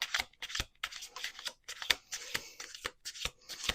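A deck of cards is shuffled in a series of sharp, crisp riffles and snaps, close and fairly quiet, with irregular bursts and brief gaps between them.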